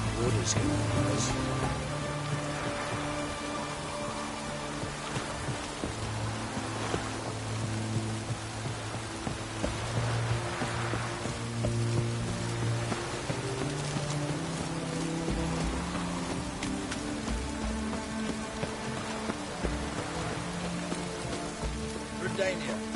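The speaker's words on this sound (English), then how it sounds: "It's raining, of course it's going to be damp." Steady rain falls in The Witcher 3: Wild Hunt, a constant soft patter on surfaces that runs under low game music and ambient tones throughout.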